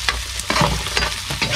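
Garlic and ginger frying with onion in a pan, cooked in Oriental Mindoro: loud, close sizzling with stirring scrapes throughout.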